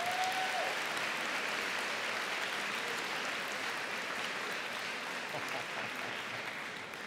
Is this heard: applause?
yes